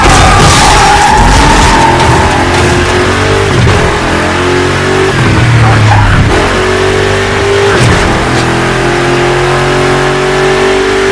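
A car in Burnout Paradise revs hard with the brake held, the engine droning loudly and rising and falling in pitch through several surges, with tyre squeal mixed in over about eleven seconds, close and dominant.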